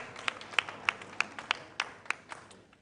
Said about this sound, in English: Round of applause to our contestants, please